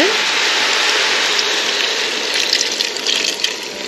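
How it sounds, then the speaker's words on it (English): Four cups of whole milk pour from a container into a cooking pot for homemade hamburger helper, a loud, steady close-up gush that grows slightly burblier and uneven toward the end. "now we're gonna go ahead and add in our four cups of milk"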